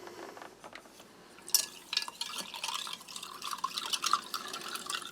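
Cold water trickles and splashes into a container of combat-ration drink powder, a bright uneven pouring sound that swells and fluctuates for several seconds, close by.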